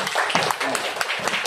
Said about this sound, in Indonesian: Boleh tepuk tangan, Pak?